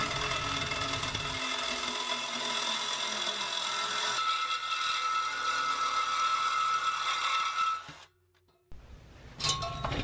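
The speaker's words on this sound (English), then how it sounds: "Using the reciprocating saw, cut it off as close as possible to the muffler." Reciprocating saw cutting through the exhaust pipe near the muffler of a GM Impala, a steady rasping metal buzz that stops abruptly near the end, followed by a brief restart, close and fairly loud.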